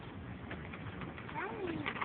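A pigeon coos faintly at a backyard feeder where birds and squirrels are fed nuts, a soft low warbling call rising near the end over quiet outdoor background.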